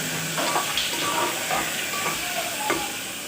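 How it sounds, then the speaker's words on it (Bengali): Potatoes with salt fry in a pan, giving a steady close sizzle and hiss broken by several light scraping stirs and utensil taps spread through the moment, no speech. "লবণটা দিয়ে আলুটা খুব সুন্দরভাবে ভাজবো।"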